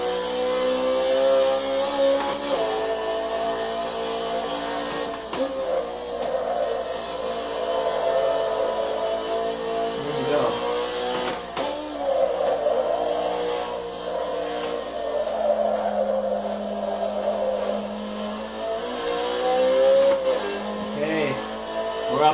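A car engine in a racing simulator game drones at moderate level, its pitch climbing and dropping with gear shifts and throttle changes, steady with brief dips and a few sharp ticks.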